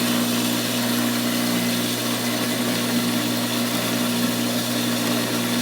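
A wet saw cutting rock runs steadily with a constant motor hum and broad hiss of the blade and water, loud and close without pause.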